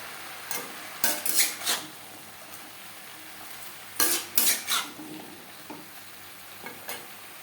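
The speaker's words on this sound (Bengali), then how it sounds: "পটল ও বরবটি ডাটা ও পেঁপের সাথে বেশ ভালো করে মিক্সড করে দেবো" Pointed gourd, long beans and papaya are stirred and mixed in a pan for a Bengali vegetarian curry. Several short, distinct scraping strokes come in two clusters with quiet gaps between them, close and fairly soft.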